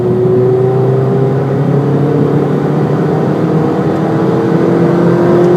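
Ford Fiesta ST engine pulling steadily in fifth gear, a loud sustained drone with a slowly rising pitch under road and wind noise inside the car.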